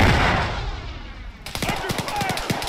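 Bombs go off in the video game ARMA 3 as a loud roaring blast, then a rapid burst of repeated gunfire-like cracks follows.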